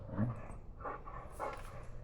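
After retrieving a dove, a hunting dog gives soft, brief whimpers and snuffling noises nearby in the outdoors, close to the microphone, with no talking over it.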